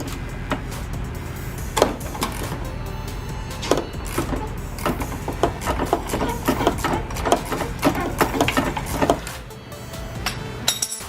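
Rapid ratcheting clicks from a 19 mm ratchet wrench turning the top shock bolt on a 2016 Toyota 4Runner, coming in irregular bursts over a steady background hum without any speech.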